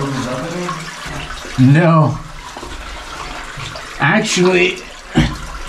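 Water sloshes and splashes in a cave as a caver shifts through it, bursts of splashing rising between quieter stretches, with a voice speaking close by at times.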